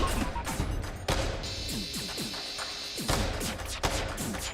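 Ship weapons in FTL strike an enemy hull in a rapid volley of sharp, punchy impacts and crashes, with a sustained electronic tone partway through under continuous game effects.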